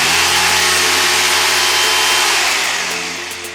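Ronix 2726 rotary hammer drill running in hammer drilling mode, a loud close steady motor drone with a buzzing rattle that gradually fades as it winds down over a few seconds.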